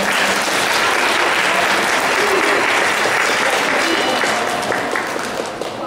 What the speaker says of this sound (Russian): Давайте пригласим его нашими дружными аплодисментами.